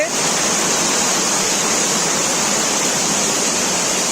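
Natural waterfall at the Sri Amara Lingeshwara Swamy Kona temple near Tirupati: a loud, steady, broadband roar of falling water, close and unbroken, with no other sounds standing out.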